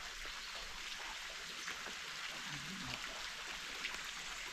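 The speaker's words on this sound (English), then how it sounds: "just taking the sounds of the waterfall." Steady, soft rushing of Carmelita Waterfall in central Trinidad fills the air, a constant hiss with no pauses, faint and distant-sounding.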